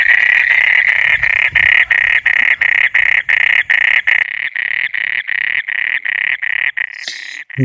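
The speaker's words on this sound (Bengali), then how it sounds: "ব্যাং ডাকে কীভাবে সেটা এখন দেখি" Frogs call in a loud, close, regular train of rapid croaks, about a dozen evenly spaced pulses, the last few slightly softer, with no voices.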